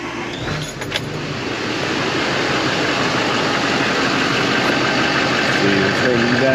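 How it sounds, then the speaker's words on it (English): A Chevrolet Silverado engine restarting, a brief crank near the start settling into a steady, loud idle that fills the rest of the clip; a voice speaks during it. "Beginning engine restarting sequence now."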